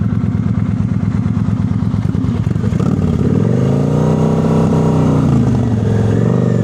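A motorcycle engine drones steadily under light throttle during low-speed stop practice, then its pitch rises and wavers as the throttle is worked, loud and close throughout.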